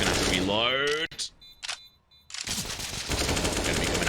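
A brief spray of automatic gunfire in the tactical shooter CS:GO during a Challenger League match, firing as a rapid burst and cutting off quickly. Loud, close shots are mixed with a commentator's voice at the start and after the burst.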